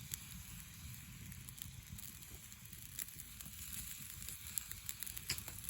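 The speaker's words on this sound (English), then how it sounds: "I can hear it crackling. In other words, the liquid has evaporated out and now it's beginning to fry." Paella frying and crackling in a pan over a twig fire, a faint continuous sizzle dotted with soft irregular pops and low crackles.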